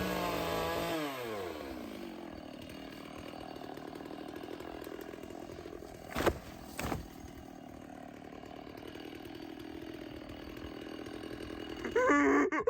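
A chainsaw cuts down a small tree beside a cabin, its engine droning steadily and close for several seconds, with a couple of brief sharper bursts midway and a revving surge near the end.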